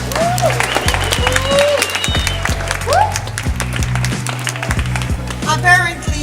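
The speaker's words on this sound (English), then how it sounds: "So give yourself a round of applause." An audience applauds at an art venue gathering, a steady wash of clapping under voices, with brief whistle-like tones and sharp taps scattered through.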